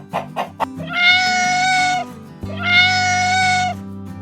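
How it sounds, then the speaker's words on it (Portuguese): A domestic cat meows twice in a row, each call a clear, drawn-out tonal mew lasting about a second, close and loud with no talking. "Gato."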